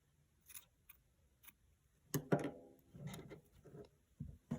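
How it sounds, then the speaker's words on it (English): A few sharp snips of scissors cutting yarn, close and fairly quiet, followed by small handling noises; no one speaks. "I'm going to cut off the old color of yarn."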